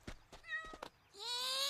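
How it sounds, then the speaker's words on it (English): A cartoon kitten stuck in a tree gives two tonal meows, a short one and then a longer, rising cry, preceded by a few soft knocks, close and fairly quiet. "Sticks, could you get that kitten out of the tree?"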